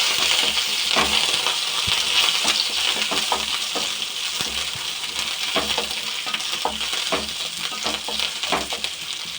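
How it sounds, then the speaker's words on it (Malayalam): Three green chillies frying in hot oil in a pan, a loud, continuous sizzle with frequent crackles and the clink and scrape of a spoon stirring throughout. "ഒരു 3 പച്ചമുളക്, നമുക്ക് നന്നായിട്ട് ഫ്രൈ ചെയ്തെടുക്കാം."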